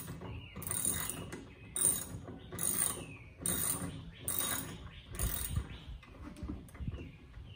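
A ratchet with a 10 mm socket works on the bed bolts of a Jeep Gladiator, giving a steady, repeated clicking rhythm of roughly six ratcheting strokes, close up and distinct.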